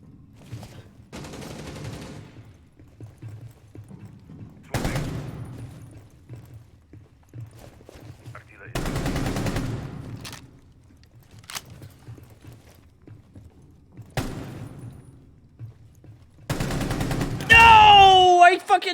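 Bursts of shotgun pistol fire in Rainbow Six Siege come in several separate loud volleys of rapid shots with quiet gaps between them, with a voice talking in places.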